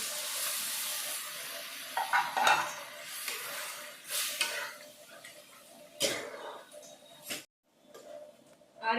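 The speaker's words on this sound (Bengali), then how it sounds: "এবার আমি মটর আলু সিদ্ধ করে রেখেছি এর মধ্যে দিয়ে দিচ্ছি" Boiled peas and potatoes are tipped into fried masala for ghugni and stirred, with a low sizzle, scraping and clinks of a spoon against the pan in uneven bursts and brief pauses.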